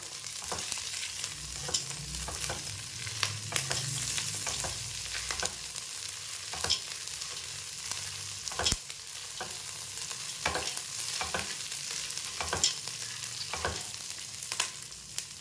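Peanuts and curry leaves fry in a pan with garlic for a puffed-rice evening snack, a continuous crackling sizzle broken by frequent sharp clicks and scrapes of a spatula stirring, close up and with no voices.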